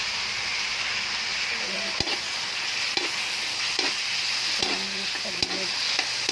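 Tomatoes are stirred into a salmon head dish frying in a pan, with a steady close sizzle and occasional scraping utensil clicks while a voice speaks briefly.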